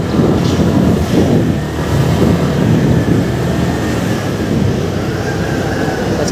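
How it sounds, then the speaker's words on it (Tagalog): A train rumbles steadily along the turn-back guideway, a continuous loud roar of wheels and track noise with no pauses, close and unbroken throughout. "ito po yun, yung likuan ng tren"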